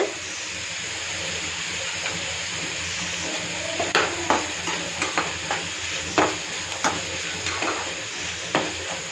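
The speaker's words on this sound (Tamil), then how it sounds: "இதை வதக்கணும்" Tomatoes and other ingredients for a Tamil mochai kuzhambu are sautéed in a pan, with a steady close sizzle and repeated sharp scrapes and clinks of a spoon stirring against the metal.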